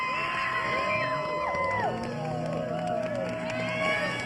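Big crowd at a ski big air contest in Aspen cheers and whoops continuously, with shouts and bellows rising and falling in a dense, loud wash of voices.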